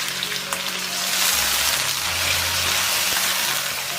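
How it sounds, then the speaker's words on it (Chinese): Duck meat stir-fried in a hot wok gives a dense, steady sizzle close by, with a faint low hum under it and no talking. "然后加入鸭肉煸炒， 煸炒到这个鸭肉有点点焦斑了"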